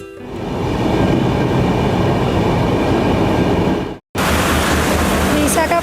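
A train pulling into Visakhapatnam station, a loud continuous rumble and rattle of railway cars that cuts out briefly near the end before the roar resumes, with rain-like noise in the background.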